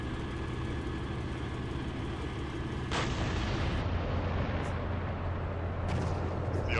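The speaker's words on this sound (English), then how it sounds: "We're taking fire here, permission to retreat." Gunfire in a military video game: a steady roar of heavy weapons and rumbling low engine noise, with a sharp loud shot-like burst near the middle and further cracks later, no voices.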